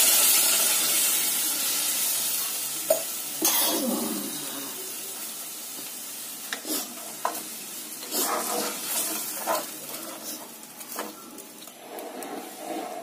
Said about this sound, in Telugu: మూత పెట్టేసుకొని కొంచెం సేపు కూరని ఉడకనివ్వాలి.